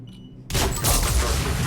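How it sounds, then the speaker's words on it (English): A fiery explosion bursts in the Mass Effect 3 video game during a Cerberus attack, a sudden loud boom cutting in after a quiet moment and followed by a sustained rumbling roar. "And that was a fire explosion."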